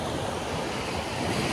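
Ocean surf washing steadily onto a Maui beach, a continuous loud wash of breaking waves with some wind rumble on the microphone and no voices.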